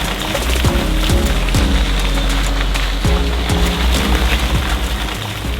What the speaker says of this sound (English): So it started raining here in Ayutthaya